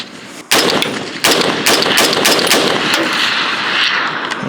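Bear Creek Arsenal AR-15 rifle firing 123 grain rounds, with a few loud, close, sharp shots spaced irregularly and ringing between them.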